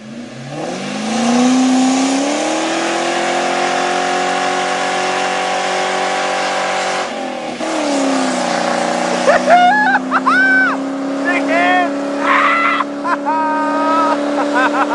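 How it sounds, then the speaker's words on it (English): Ford Mustang GT with a Magnaflow exhaust doing a standstill burnout: a loud, sustained engine roar rises and holds, dips briefly, then revs again while people shout and whoop over it. "I'm gonna do a standstill burnout"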